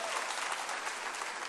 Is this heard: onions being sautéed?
no